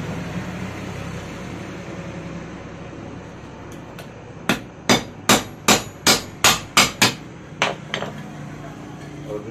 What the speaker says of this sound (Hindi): चार रिपीट हमने यहाँ पे ठोक दिया